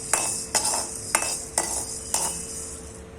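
Black peppercorns dry roasting in a pan are stirred in five evenly spaced scraping, rattling strokes about half a second apart, close and moderately loud, with no talking.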